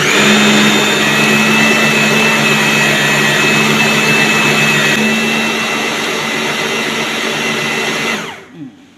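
Blender grinding cooked taro to a smooth paste: a loud, steady motor whine with a constant pitch that holds for several seconds, then winds down and stops near the end.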